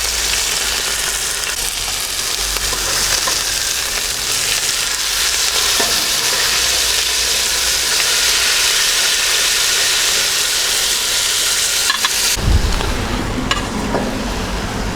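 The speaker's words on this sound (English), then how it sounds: "we're just going to be frying the steak off for literally a minute on either side" Steak fries in a hot pan for a rustic Italian steak alla pizzaiola, a loud, continuous sizzle close up that stays steady, then abruptly cuts and softens near the end.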